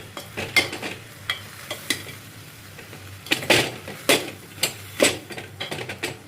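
Onions sautéing in oil for an Andhra-style okra tamarind curry, a low sizzle broken by repeated sharp scrapes and clacks of a spoon stirring the pan, close, with no talking.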